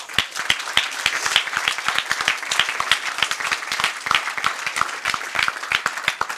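A theatre audience at the closing ceremony of the 16th Brive cinema festival breaks into dense, sustained applause, many hands clapping loudly and continuously throughout.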